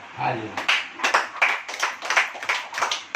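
Church congregation clapping in a steady, rhythmic beat, sharp repeated claps running through the whole stretch, close and moderately loud.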